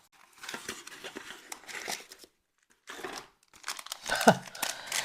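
Crinkling of a plastic packaging bag from an unboxed parcel in bursts, close up, with brief pauses, ending in a sharper crackle.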